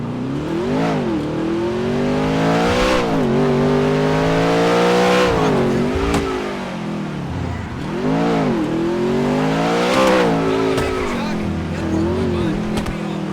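An Audi RS6 in a GTA roleplay game revs hard over and over, its engine pitch sweeping up and falling back in repeated loud climbs with a steady close roar and a voice underneath.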